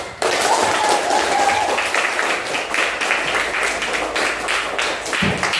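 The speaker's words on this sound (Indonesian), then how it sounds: "Kasih tepuk tangan." A school class applauding during a religious education lesson, sudden onset of close, lively clapping from many students that carries on steadily for several seconds with small thumps mixed in.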